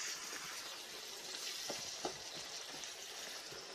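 Steady, dense sizzling of meat frying in a hot pan, with a few faint clinks and pops over the continuous crackle.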